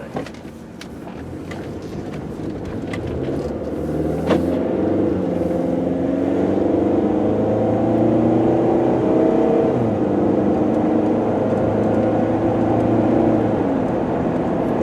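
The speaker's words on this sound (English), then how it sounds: "just turn right here onto the highway here, get it up to about 55 miles an hour" A 2004 VW Jetta sedan accelerates onto a highway up to about 55 mph, its engine droning and rising through the gears with steady road and wind noise inside the cabin.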